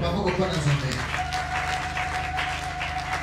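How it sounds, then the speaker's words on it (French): Congregation applauding during a French-language church service, with clapping mixed under a continuing voice and a steady sustained musical tone throughout. "Applaudissons."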